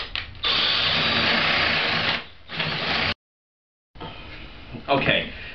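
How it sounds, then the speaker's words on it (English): A drill bores the entrance hole in the front of a wooden birdhouse, producing a steady close whirring whine that dips briefly, runs again, stops for a moment of silence, then resumes with some rattling. "cut a hole in the front entrance of our birdhouse"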